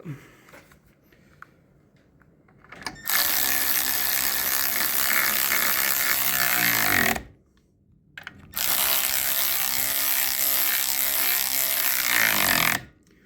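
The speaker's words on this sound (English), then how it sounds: "So I just nip them up with the electric ratchet, and I'll just fully tighten them with the normal ratchet" An electric ratchet nipping up gearbox bolts on a classic VW Beetle during a gearbox swap: two long, loud buzzing whirrs of about four seconds each, separated by a short pause, close to the listener.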